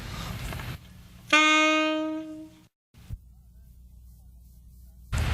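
A single sustained alto saxophone note, C, rings out clearly for over a second, then stops, followed by near silence and a faint tap.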